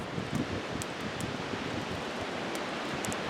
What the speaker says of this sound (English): Got a little wind blowing here is going to help it feed the flame